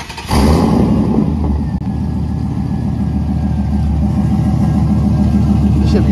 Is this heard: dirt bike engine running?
yes